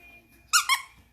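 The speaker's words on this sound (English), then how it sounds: "Oh, I need another squeaky toy." A dog's squeaky toy gives two quick, sharp squeaks close by, bright and loud against an otherwise quiet yard.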